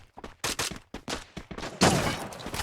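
Bursts of rapid gunfire crackle from an online shooter match during a night tournament grand final, sounding as short, clustered volleys with a louder sustained stretch near the end.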